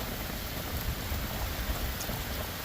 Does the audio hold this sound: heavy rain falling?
yes